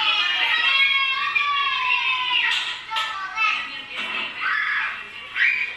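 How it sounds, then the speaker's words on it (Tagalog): A group of excited nieces and nephews at a family home in the Philippine provinces, shouting and squealing while a balikbayan box is unboxed; high-pitched overlapping voices and shrieks stay loud and close throughout, rising in bursts. "O diba, ang ingay-ingay na mga bata dyan."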